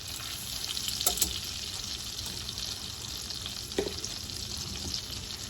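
Garlic frying in a pan, a faint continuous crackling sizzle with a couple of small stirring clinks.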